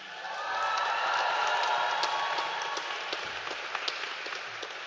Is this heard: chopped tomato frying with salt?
no